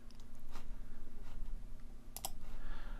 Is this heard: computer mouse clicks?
yes